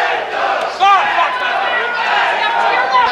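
A crowd cheering and chanting at a boxing bout in round six, a loud roaring mass of voices with rising shouts and whoops, steady and close throughout, with a surge of yelling near the start.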